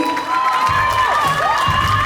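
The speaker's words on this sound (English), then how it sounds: "Please put your hands together for him, please." A crowd at the Mr. World Jamaica 2024 coronation cheers and claps in a loud, steady wash. A sustained tone runs under the cheering and a voice carries over the top, with the sound filling the whole moment.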